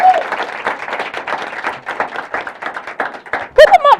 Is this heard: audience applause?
yes